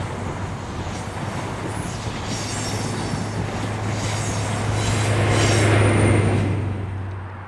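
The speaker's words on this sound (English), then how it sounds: "43152 leaves with the 1552 working to Edinburgh Waverley" A Class 43 HST power car, 43152, pulls out of a Highland Railway station, its engine drone steady and building as it passes close, with a high wheel squeal near the end before it recedes.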